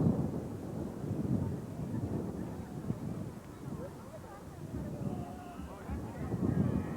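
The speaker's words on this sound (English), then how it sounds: "You can hear the wind in the background just kind of really kicking up." Strong wind at an outdoor college football game between Wilkes University and King's College, a steady low roar buffeting the microphone and swelling and easing throughout.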